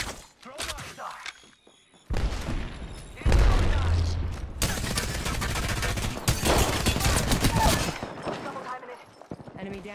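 Gunfire in a first-person shooter video game, with dense bursts of rapid automatic shots and thuds that run almost continuously and loud, while voices talk over them.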